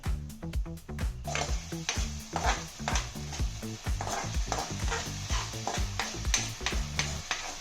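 Food frying with soy sauce, tomato ketchup and pepper while being stirred, rhythmic clanks of a utensil against the pan over a soft sizzle, close and steady.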